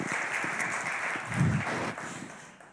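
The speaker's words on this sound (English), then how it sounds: "we'll give you a warm hand of applause." Warm audience applause at a Baltic Sea conference, moderate and fairly close, steady clapping that swells briefly midway and gradually fades out.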